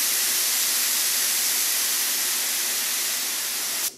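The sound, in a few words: Harbor Freight paint spray gun spraying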